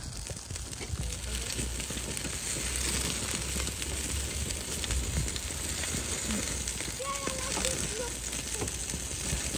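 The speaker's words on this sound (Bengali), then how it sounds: "আর এদিকে আমাদের বারবিকিউ হচ্ছে" Food sizzling on a portable gas barbecue grill fed by a small mini cylinder outdoors by the sea, a steady hiss and crackle running under continuous background noise, with brief voices in the distance.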